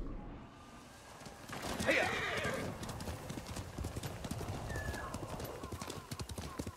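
Horse in the samurai video game Ghost of Tsushima, with a bright whinny rising early, then quick rhythmic hoofbeats clip-clopping close by, while someone talks over the game sounds.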